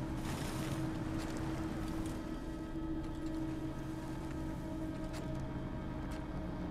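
An Edison Motors L750 truck climbs a trail hill in SnowRunner, its engine holding a steady, unbroken drone with a low rumble and constant broadband noise throughout, with no talking.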